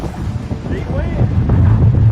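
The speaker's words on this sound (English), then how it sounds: "Big wind!" Strong storm wind roaring and buffeting loudly and continuously up close, with people's voices caught underneath.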